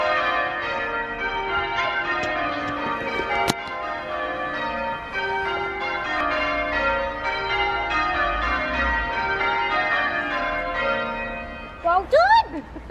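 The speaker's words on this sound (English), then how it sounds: "those bells were ringing for 8 minutes" Church bells peal continuously in a layered, overlapping ringing pattern, loud and sustained, with a brief high chirp near the end.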